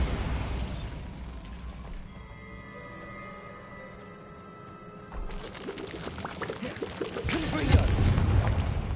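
Bombarda spell explosion in the Hogwarts Legacy video game, a burst with a rumbling low boom that swells again toward the end, heard with game ambience and no talk.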